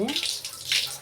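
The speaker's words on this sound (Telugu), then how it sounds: "కడుగుతున్నాను టమాటాలు" A brief, steady rush of water splashes over tomatoes as they are washed, close and moderately loud.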